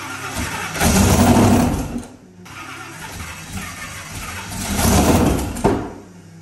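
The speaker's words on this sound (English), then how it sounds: "Got a weird pop out the exhaust." A 4.5L Whipple-supercharged 427 cubic inch LSX engine on its first start sputters and surges, then dies down; a sharp exhaust pop bursts out near the end before it settles to a quieter idle.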